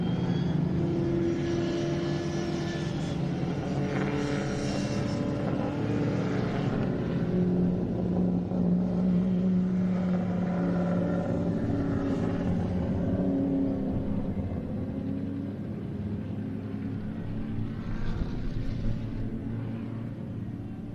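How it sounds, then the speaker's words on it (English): Historic touring cars race at Carco Raceway, a continuous rumbling engine drone that swells and fades as the cars pass at a distance, with no talk. "for the last time in 2024 here at Carco Raceway, the historic touring cars"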